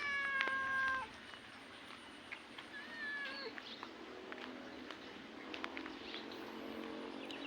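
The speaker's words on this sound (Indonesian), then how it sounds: "Di sana juga ada seekor kucing jantan ya teman-teman." A male cat gives a couple of soft, drawn-out meows, with quieter chirps and rustling in a calm village setting.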